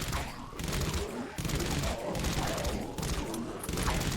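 Rapid gunfire from the AS-VAL Ghost rifle in the Dead Frontier game, a dense, continuous burst of suppressed shots that runs steadily through the whole stretch with only brief dips.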